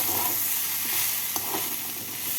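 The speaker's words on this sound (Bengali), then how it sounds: "এবার ডালের সাথে ভালো করে মিশিয়ে নেব" Lentils are stirred with turmeric, salt and Kashmiri chilli powder in a hot pan, a soft, steady sizzle with a few light spoon taps, close and without talk.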